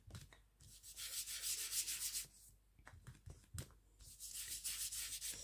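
A paint brush is dragged across paper to spread a background, making close, soft, bristly rubbing strokes in several bursts separated by short pauses, with no talking.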